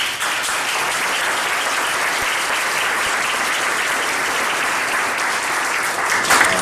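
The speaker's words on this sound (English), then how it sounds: "A round of applause for them as well too" An indoor audience at a Youth of the Year awards evening claps steadily and densely for several seconds, a continuous wash of applause with no talk over it.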